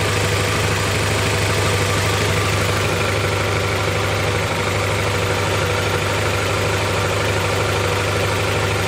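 Car engine idling steadily in the engine bay, a loud constant low rumble with an even hum throughout and no change in pace.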